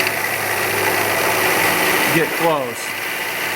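A milling machine, a Wilton Baby Bullet, runs a half-inch end mill at about 750 RPM with a steady loud machine whir and hum throughout. Someone speaks briefly over it near the end.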